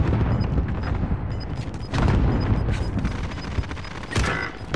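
Bursts of gunfire and booming shots fill a Call of Duty: Modern Warfare battle royale match, fairly loud and continuous, with heavier blasts near the two-second mark and again around four seconds, no speech heard.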